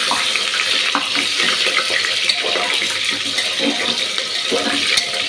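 Cut potatoes sizzling in hot oil inside a pressure cooker, a steady broadband hiss and crackle that stays loud and even throughout, with no talk.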